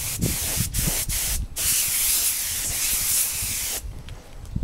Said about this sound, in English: Once the decals are printed, you need to get a coat of clear on them. This is the same clear we use to paint the bike.